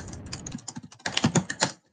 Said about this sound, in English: Random keyboard slapping.